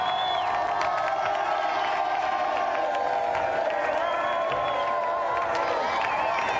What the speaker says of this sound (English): a round of applause again for Bruce, Dan and Snell